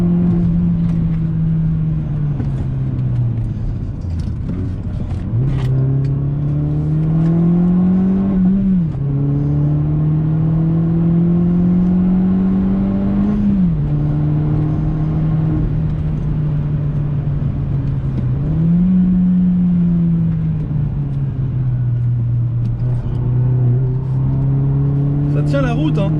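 Opel Astra OPC with 180 hp at full throttle, its engine note climbing steadily through several gear changes, loud and close from inside the cabin, with a voice speaking over it.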